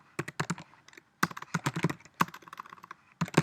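Quick bursts of typing on a computer keyboard, close and crisp, in uneven clusters of keystrokes separated by short pauses, with no voices.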